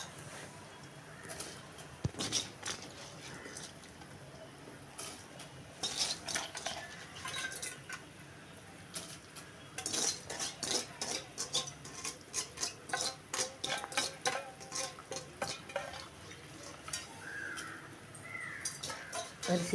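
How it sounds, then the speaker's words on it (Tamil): Soaked rice being stirred into mushroom biryani in a pot: repeated scraping and clinking of a metal spoon against the pot in uneven bursts, fairly quiet and close, with no talking. "அரிசி சேர்த்ததுக்கு அப்புறம் பயப்படாமல் நல்லா கிண்டி விடுங்க"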